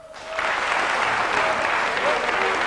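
A live concert crowd applauds a singer and his band in Kinshasa with steady, loud clapping. It swells quickly after a short lead-in and holds dense and even throughout.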